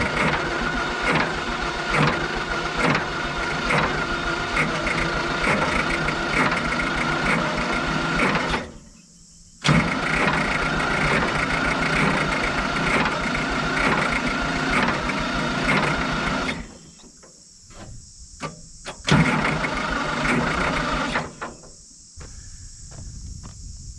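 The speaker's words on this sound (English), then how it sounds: "So I've left one injector line loose, so I'm just going to wind it over for a bit" A road grader's diesel engine, one injector line loosened after a rollover, cranks over without firing: long steady churning starter runs broken by short pauses, loud and close, with no talk.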